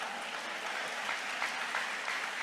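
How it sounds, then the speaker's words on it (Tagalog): A church congregation claps loudly during a preaching service, a dense, sustained roar of many hands with no break and no talk. "Palakpakan natin ang malakas ang ating mahal na Panginoon."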